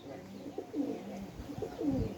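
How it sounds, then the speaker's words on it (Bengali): Pigeons coo softly in a loft where chicks are being handled and shown, a few low throaty murmurs overlapping in an irregular rhythm close by, with no talk over them. "চলেন আগে কবুতর দেখাই"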